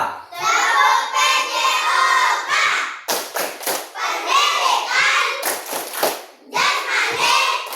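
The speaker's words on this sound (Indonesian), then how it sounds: "Sekarang kita tepuk PJOK lagi ya." Primary school children in an Indonesian physical education class chant loudly together in a rhythmic clapping routine. Bursts of sharp, tightly synchronised claps break up the sung chant, close and energetic.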